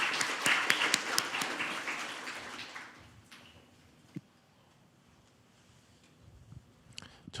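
Audience applause welcomes a lawmaker to the podium at a Korean National Assembly science and technology policy forum. The clapping is moderate and dense for about three seconds, then fades to sparse scattered claps and quiet room tone.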